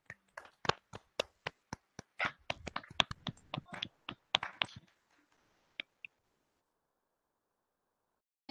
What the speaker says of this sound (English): Let us join hands to clap for this excellent presentation